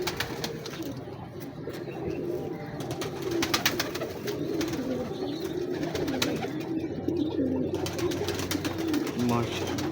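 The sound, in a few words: pigeon cooing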